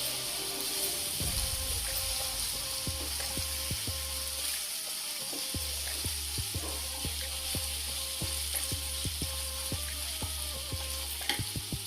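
Chicken pieces sizzle and fry in a pan with soy sauce and vinegar for chicken 65 fried rice, a steady close crackle punctuated by repeated scraping stirs.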